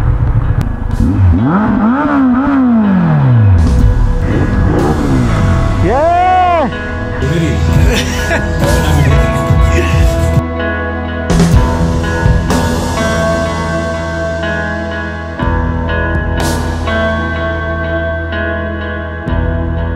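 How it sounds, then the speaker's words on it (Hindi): A Ducati Monster motorcycle with a broken, shaking exhaust runs loud and close, engine revving and rising and falling in pitch, with clatter and wind noise as it rides along mountain roads. "आपका एग्जॉस्ट पूरा हिल रहा है। वो टूट गया है भाई।"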